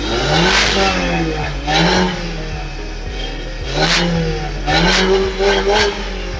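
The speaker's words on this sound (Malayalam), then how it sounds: "ഈ സൗണ്ട് എന്ന് പറയുമ്പോൾ കിറ്റ് JCWയുടെ കിറ്റിൽ ഉൾപ്പെടുന്ന ഫുൾ സിസ്റ്റം എക്സോസ്റ്റ് ആണ്" A car with a JCW full-system exhaust kit is revved repeatedly, the engine note rising and falling in several swells with a raspy, throaty edge.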